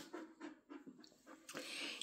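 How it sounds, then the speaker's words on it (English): A dog pants hard and fast after running around, giving a steady rhythm of close, breathy puffs, then a louder rush of noise at the end. "Yes, you're really panting hard."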